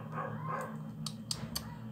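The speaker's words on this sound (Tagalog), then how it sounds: "Ano ba naman itong asong to?" A dog yips and barks a few times in quick, short bursts, heard at a moderate distance over a low, steady background hum.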